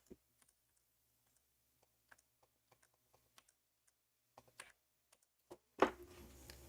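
A cat walking across a computer keyboard: sparse, faint, irregular key clicks and taps, scattered and quiet, ending in a louder burst of jumbled clatter.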